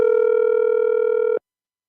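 A telephone tone sounds as one steady, loud, pure hum with buzzing harmonics, holding for over a second before cutting off abruptly into silence.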